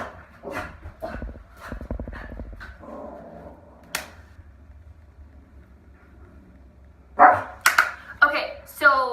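A dog named Bo barks in a few sharp bursts at neighbors passing with their own dog, the barks fairly near and loud. A person talks in between, and some whimpering and fast panting follow.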